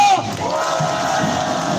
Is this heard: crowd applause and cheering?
yes